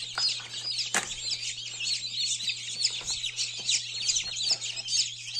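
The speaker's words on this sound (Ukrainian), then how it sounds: "Курчата вилупляються" Maran chicks cheep continuously in a full incubator as they hatch, a dense overlapping chorus of high, busy peeps with a steady low hum running underneath.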